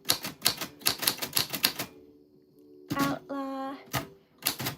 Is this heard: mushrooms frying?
no